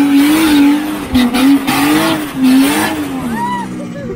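A 500 kW Barra-engined Nissan Patrol 4WD in two-wheel drive revs hard and accelerates, a loud six-cylinder engine note rising and falling in pitch with brief gear-change dips and possible tire squeal.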